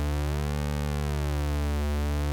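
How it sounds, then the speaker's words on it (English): Phase Plant analog oscillator pulse wave playing one steady sustained note, its harmonic content slowly shifting as the pulse width changes, with a constant level and no voices. "If you listen while adjusting the pulse width percentage, you will hear the sound it generates changing."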